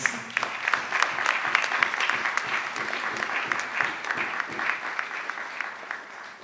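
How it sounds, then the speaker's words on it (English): Audience applause at a ceremony honouring Queen Moreni, steady dense clapping from a sizeable crowd lasting the whole stretch at even loudness. "I'm not satisfied with that round of applause for her."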